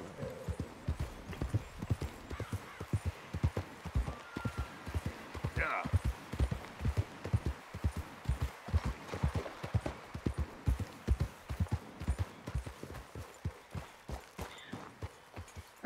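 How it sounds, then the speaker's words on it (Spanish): Horse hooves clip-clop at a steady trot in Red Dead Redemption 2, a rapid regular rhythm of close, crisp hoof strikes on ground, with a brief whinny partway through and no talk over it. "Ah, vamos con el caballo, ¿no?"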